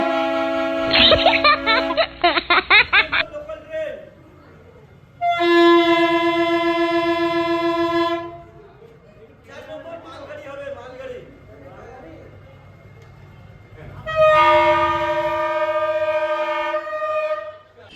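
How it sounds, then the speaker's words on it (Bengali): A bus horn that sounds like a train horn blares in long, loud multi-tone blasts, first with a rapid stuttering burst, then sustained blasts separated by pauses, with voices and street noise in between. "এই বাসের মধ্যে ট্রেনের মতো আওয়াজ করছে"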